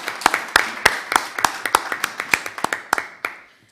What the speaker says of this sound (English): Were you able to hear us clapping?